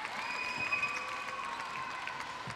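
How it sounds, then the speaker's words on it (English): Spectators at a Singapore versus Malaysia international netball match give a sympathetic round of applause for the Malaysian side, a moderate, even clatter of many hands in an indoor arena that lasts throughout. "There is a sympathetic applause here for the Malaysians"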